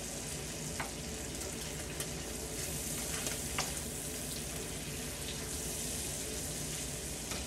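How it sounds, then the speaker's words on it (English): Small pieces of bacon fry in a pan with a steady, dense crackling sizzle, close and continuous with occasional sharper pops, and no talking. "You got to keep an eye on bacon, because bacon gets to a point, like, where it's not quite done and then all of a sudden it's burnt."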